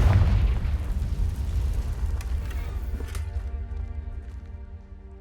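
Spell blasts from Bombardo and Confringo in Hogwarts Legacy, a loud booming burst at the start that rolls into a decaying rumble, with a sharp crack near the middle and fading tonal hum after.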